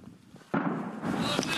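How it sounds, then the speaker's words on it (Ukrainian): Explosions and gunfire on the front line near Avdiivka: a sudden sharp blast partway through, then a dense rumbling roar with crackling bursts, heard from some distance under a faint murmur of voices. "На передовій і вранці чутно вибухи та постріли."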